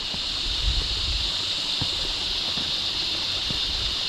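Creek water rushing steadily over rocks in an Australian stream, a continuous close broadband wash with no talk.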